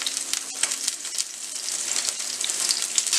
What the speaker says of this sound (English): cook that on one side on high heat.